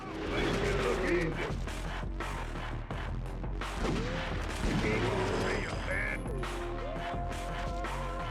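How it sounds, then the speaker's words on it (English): Shotgun blasts in the Twin Caliber video game, a dense run of sharp, loud shots mixed with game effects and creature cries, with a voice talking over parts of it. "I'm sticking with the shotguns, and I am carefully placing my shots."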